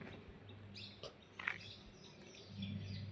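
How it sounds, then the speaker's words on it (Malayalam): Faint bird chirps scattered over quiet forest ambience, a few brief high calls near the middle, distant and sparse. "കിളികളൊക്കെ ചലിക്കുന്നുണ്ട് കേട്ടോ പക്ഷേ ഒന്നും കാണാനില്ല"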